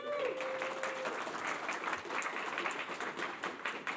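Audience applause at the DConf '24 programming conference for a first-time speaker, a dense, sustained round of clapping from a large room that holds steady from start to finish.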